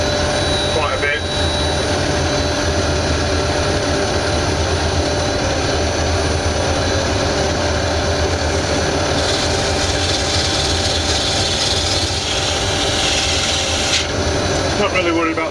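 Wood lathe spinning while turning a wooden cake stand, a continuous loud whirring drone with scraping and rubbing from the tool against the wood, steady throughout.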